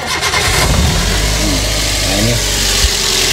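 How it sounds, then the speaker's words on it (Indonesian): A Daihatsu Luxio / Gran Max engine idles loud and close just after starting, a steady rough rumble with a slight rev change, under a brief bit of speech at the start. "kita hidupkan mesinnya ya."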